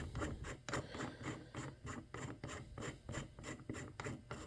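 A small counterweight screw is twisted loose on an XP Deus 2 metal detector, a close run of quick rhythmic rasping scrapes repeating steadily, quiet and with no voice over it.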